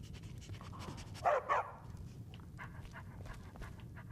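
A dog in the video game Skyrim, with light panting under two short, sharp barks close together, fairly near over a low background hum.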